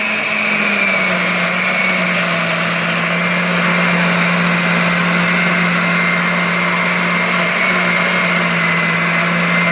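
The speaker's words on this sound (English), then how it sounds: "It's better with a food processor. But I don't have one at the moment, so I'm just in a blender." A blender runs continuously at a steady high pitch, whirring loudly as it purées sofrito vegetables with water, with a slight dip in pitch at the start as the blades load up.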